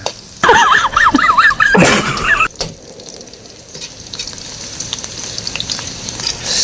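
Garlic sautéing in hot cooking oil for snail bopis, a steady sizzle with stirring clatter, briefly covered by a bright whistling, warbling sound near the start, then a continuous crackle to the end.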